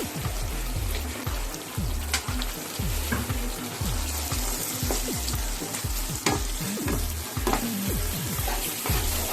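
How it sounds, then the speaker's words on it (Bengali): Chilli chicken sizzles loudly in a pan over a high flame while being stirred, with a steady frying hiss and repeated rhythmic scraping strokes of the spoon against the pan, close up with no talking. "এবার ফ্লেমটা হাইতে দিয়ে দেবেন, দিয়ে এগুলো নেড়ে চেড়ে নেবেন।"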